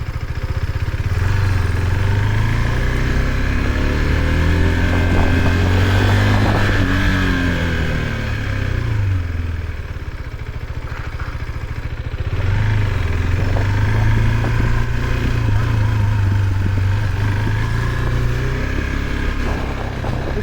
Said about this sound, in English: The engine is smooth, has a little rasp to it with the stock exhaust.